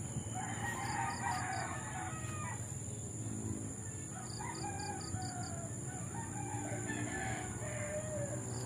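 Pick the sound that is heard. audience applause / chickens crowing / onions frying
chickens crowing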